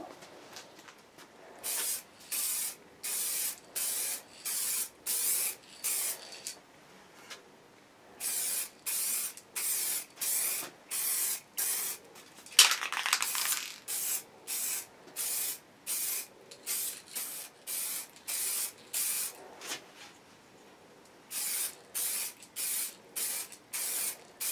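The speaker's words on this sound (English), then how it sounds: "this is just a quick solid, as I said, sky blue colour being done by Cans" Aerosol spray cans apply sky blue paint to a guitar body in a long series of short, loud, evenly spaced hissing bursts, with brief quiet gaps between them.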